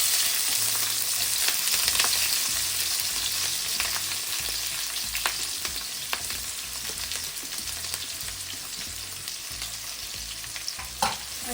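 Sliced onion and green chillies fry in hot oil with cumin seeds for paneer jalfrezi, giving a continuous close sizzle with scattered crackles and a few sharp spoon-against-pan scrapes.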